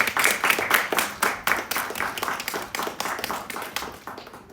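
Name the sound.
audience clapping for a forum speaker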